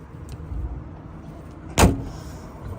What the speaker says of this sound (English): Doors all shut with a nice clunk.